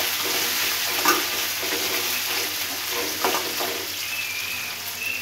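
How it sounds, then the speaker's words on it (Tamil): Chopped onions frying in a pan for aval upma, an even close sizzle with a couple of soft spatula scrapes and a faint hiss near the end, no voices. "வெங்காயம் கட் பண்ணி வச்சுருக்காங்க, அதை போடுங்க. அதையும் போட்டு நல்லா வறுத்துக்கலாம்"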